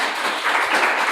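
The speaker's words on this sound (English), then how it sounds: "a huge round of applause for our panel." A brief burst of audience applause for a conference panel, steady and moderately loud, heard alone for about a second.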